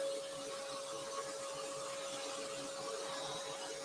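Bowling ball being drilled in a pro shop: a steady, loud mechanical whine with a fixed high tone over broadband machine noise, continuous throughout with no talking.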